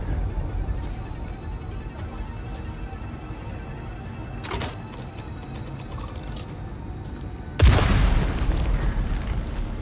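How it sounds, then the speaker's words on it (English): A detonation in Dune Awakening: after a low steady in-game rumble and a brief rattle, a sudden loud explosion bursts out and rolls on as a sustained roar to the end. "I can detonate"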